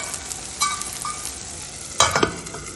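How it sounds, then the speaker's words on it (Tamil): Oil poured around the edge of a thavala adai frying on a pan, giving a close, steady sizzle with two sharper bursts of crackle and scraping, and no talking. "சைடில் கொஞ்சம் இந்த மாதிரி சுற்றி எண்ணெய் ஊற்றிக்கோங்க"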